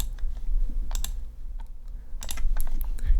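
Quick clicking and tapping at a computer, sharp clustered clicks scattered across a quiet room, including a fast pair like a mouse double click.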